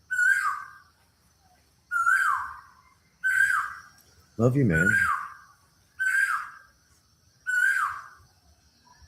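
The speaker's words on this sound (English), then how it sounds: "This bird is just whack." A bird calls at sunrise in a repeating pattern, six loud close calls spaced about every one and a half seconds, with a person briefly talking between them.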